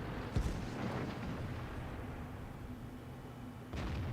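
A World of Tanks shell strikes the lower glacis of an E75 cresting a rise, one heavy, booming impact, with a second dull thump near the end over low engine rumble.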